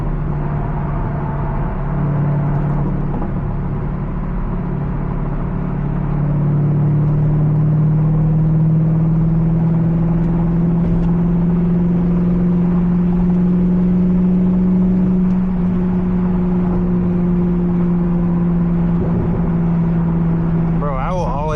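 A modified C5 Corvette drives along with a steady low engine drone that rises slightly mid-run and stays loud and close throughout, while people talk over it inside the car.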